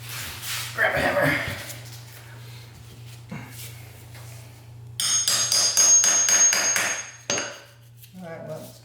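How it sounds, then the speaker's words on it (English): A hammer driving a too-long part into place in a workshop, with a few sharp knocks amid clattering and a dense burst of metallic tapping near the end, while a person talks. "I'm gonna have to hammer it in."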